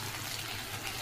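Water is poured into a cooking pot holding a thin vegetable curry, making a short, soft continuous gush of splashing liquid with no voices.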